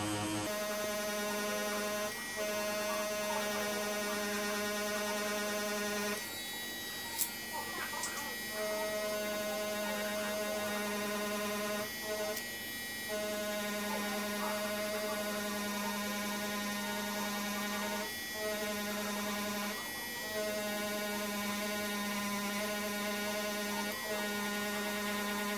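A tattoo liner machine buzzing continuously with a steady electric hum and whine, brief dips where the needle lifts, heard close and loud throughout with no voices.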